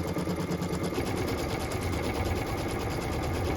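An embroidery machine stitches a placement line onto stabilizer for a quilt block, its steady rapid needle chatter and motor hum running continuously and close with no talk.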